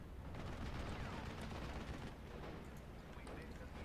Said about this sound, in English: So I'm just shooting lots of mortars here